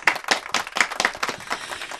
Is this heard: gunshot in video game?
no